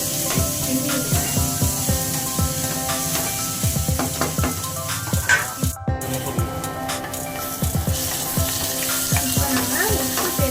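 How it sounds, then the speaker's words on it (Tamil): Garlic sizzles and fries in hot oil over a high flame for a spicy Tamil-style chicken stir-fry, with steady crackling and repeated scrapes of stirring, close and continuous. "பூண்டை இந்த ஸ்டேஜில் நம்ம சேர்த்துக்கலாம். நல்லா வதங்கிக்கலாம். ஒரு 2 நிமிஷம் பச்சை வாசனை போகிற மாதிரி நல்லா ஹை ஃப்ளேமில் வச்சு கிண்டி விடுவேன்."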